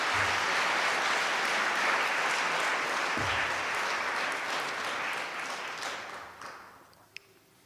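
A church congregation claps loudly and continuously during a Hindi-language sermon, the dense applause holding steady before tapering off and fading toward the end.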